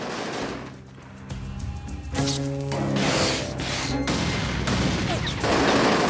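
Turret gunfire rattles in bursts in the video game inFAMOUS 2, mixed with booms and crashes of combat, dense and loud over the game's score.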